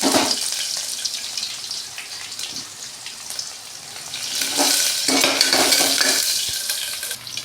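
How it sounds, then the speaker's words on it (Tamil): Mustard seeds and curry leaves splutter and crackle in hot oil in a pan, a loud, continuous sizzle with bursts of popping. "இதில் கடுகு பொரிஞ்சிடுச்சு."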